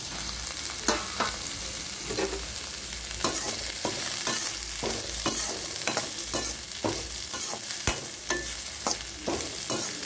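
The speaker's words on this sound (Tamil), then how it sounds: "அப்படியே ஒரு நிமிஷம் நல்லா வதங்கட்டும்." Carrots sauté in a pan for carrot rice, giving a steady close sizzle broken by repeated scrapes and knocks of stirring for the whole stretch, with no voices.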